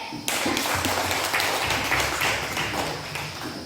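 A classroom of students applauds a presenting group, a burst of brisk, dense hand clapping that starts abruptly and continues steadily at close range, then slowly eases off.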